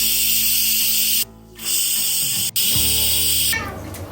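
A pressure cooker on a stove blowing off steam after its whistles, a loud, close, hissing rush that cuts out briefly twice before resuming and then tapering slightly toward the end.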